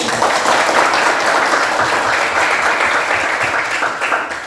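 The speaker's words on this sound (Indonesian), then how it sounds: "semua tepuk tangan" A classroom of students applauds, dense steady clapping that holds for several seconds before tapering slightly.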